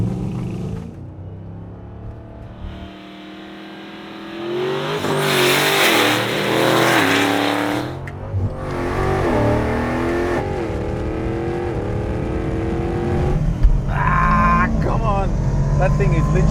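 A 1200hp twin-turbo RAM TRX and an Aston Martin DBX707 launch in a drag race, engines revving and surging loudly with rising, sweeping tones as they accelerate through the gears, while people talk over the roar.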